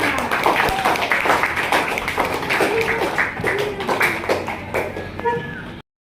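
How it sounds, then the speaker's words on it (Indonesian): Children and a teacher clap together in a primary school classroom, a dense patter of many small hands running several seconds with voices calling out over it. "Tepuk tangan buat kita semua"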